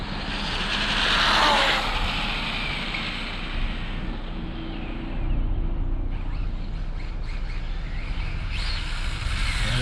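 Hobao Hyper 9E RC car making test pulls in a parking lot, a high, droning engine whine that swells and fades as it passes at varying distance, steady broadband noise throughout.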